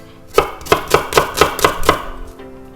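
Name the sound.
cutting zucchini into squares with a knife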